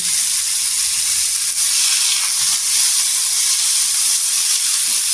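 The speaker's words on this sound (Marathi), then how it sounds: "इथे टोमॅटो टाकायचा, टोमॅटो पण छान असा परतून घ्यायचा।" Chopped tomato frying in a pan for a spicy potato dish, a loud, continuous close-up sizzle with an even hiss and no talking.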